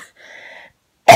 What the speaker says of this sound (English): I'm starting to cough too.